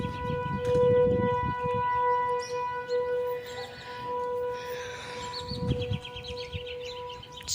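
A tornado siren wails outdoors as a long, continuous, steady tone. Birds chirp now and then over it, and gusts of wind rumble underneath.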